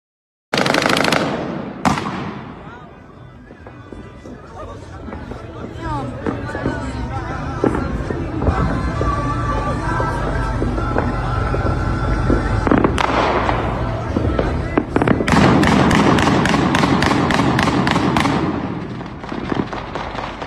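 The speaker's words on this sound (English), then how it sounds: "Now that doom, doom, doom, that's semi-automatic, but those are fully on." Semi-automatic and fully automatic gunfire playing back from a recorded video, loud sharp reports that run from spaced single shots into rapid sustained bursts, with a person talking over parts of it.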